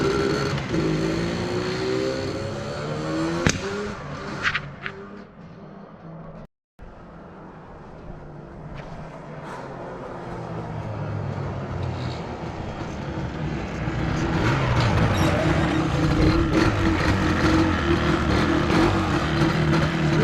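A small 10mil Cub model airplane engine buzzes continuously under throttle, its pitch rising and swelling louder toward the end as it revs up, with a brief cutout midway.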